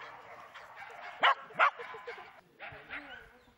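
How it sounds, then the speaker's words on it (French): A seven-year-old male Shetland sheepdog gives two sharp, close barks amid a background of talking at a canine club, followed by quieter yips. "mon chien Avan de la Fontaine d'Isis, un Shetland mâle de 7 ans."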